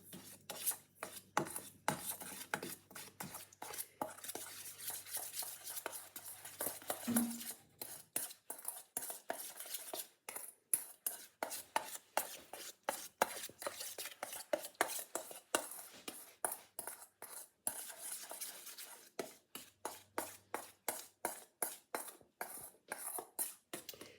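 Cinnamon roll filling is mixed in a bowl, with repeated rhythmic scraping and rubbing strokes of a spoon, close and fairly loud, going on for a long stretch without talk.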